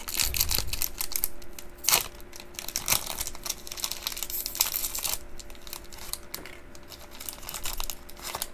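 The foil wrapper of a Pokemon Vivid Voltage card pack crinkles and tears continuously up close as it is opened, with a few louder rustling bursts and no talking.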